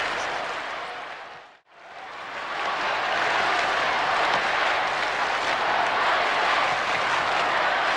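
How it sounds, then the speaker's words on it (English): Cricket crowd at a 1984–85 World Series Cup match roaring and chanting for a batsman on 96, a broad sustained wash of crowd noise that drops out briefly then swells back loud and steady. "Crowd chanting Dean Jones, 96."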